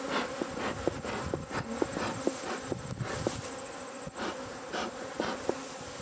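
Agitated honeybees swarming at an open 28-frame hive, a dense, steady buzz from many insects close by, with individual bees repeatedly darting past the microphone.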